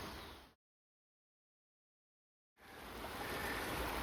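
Fast-flowing drainage ditch swollen after heavy overnight rain, a steady broadband rush of water near at hand, cut by a two-second gap of silence before the churning flow resumes just as loud.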